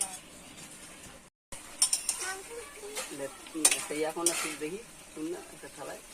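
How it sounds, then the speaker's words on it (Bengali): A spoon scrapes and stirs meat curry in a pan in a home kitchen, with clinks, light sizzling and metallic clatter in short bursts, while voices chatter in the background. "আজকে মাংস রান্নাতে আমি নেই বলে ভাই গজু ছোটদা তিনজনে মিলে আজকে মাংস রান্না করছে"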